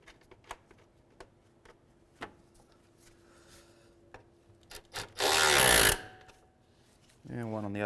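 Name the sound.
power tool driving 10mm bolts into a Hyundai Sonata fan assembly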